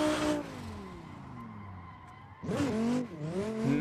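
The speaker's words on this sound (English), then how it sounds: "Massive braking" A Dodge Viper in a racing video game on tight mountain roads brakes hard. A loud tire squeal wails over the engine, then the motor snarls back up through a quick rev, all close and continuous.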